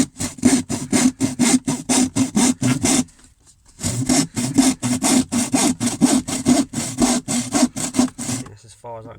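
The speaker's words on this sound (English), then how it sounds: "Just put your fingers in there, don't go right down, and start sawing" A handsaw cuts through wooden wall lining inside a narrowboat in quick, rhythmic back-and-forth strokes, close and loud. The strokes pause for under a second partway through, then resume at the same steady pace.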